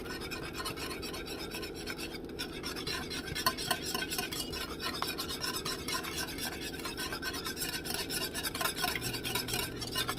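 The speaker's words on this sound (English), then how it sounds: "I'm whisking in the cream cheese" Steady whisking of cream cheese into a sauce in a pot, a continuous quiet scraping and stirring rasp with faint metallic clinks and no speech.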